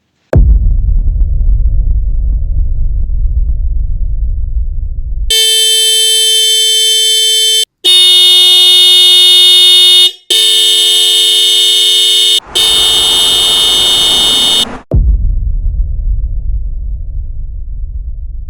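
Hella car horns sound in a series of loud, close, sustained blasts, a lower tone followed by higher tones, separated by brief gaps and set between stretches of low road rumble.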